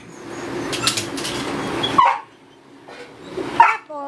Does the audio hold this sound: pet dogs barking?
yes